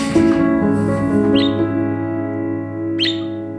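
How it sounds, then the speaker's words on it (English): A pet bird in a retirement center gives two short, bright chirps a second and a half apart, heard over a steady droning hum in the room. "Jimmy, is this your first bird, or have you always been a bird guy?"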